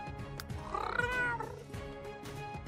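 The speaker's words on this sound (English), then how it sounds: "We'll go with a lower meow." A low-pitched cat meow from The Sims 3 game, a single drawn-out call rising and falling over a soft musical background, fairly quiet and with no talking.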